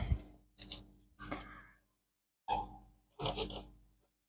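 Scissors snip and trim a raw duck gizzard in a few close, crisp bursts of cutting and rasping, separated by short pauses.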